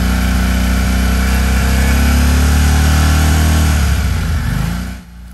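A Harley-Davidson Street 500 motorcycle fitted with a Two Brothers exhaust is revved to around 5,000–6,000 RPM, giving a loud, steady, close engine drone that holds for several seconds before dropping off at the end.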